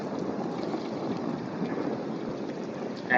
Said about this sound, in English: And now it's sprinkling.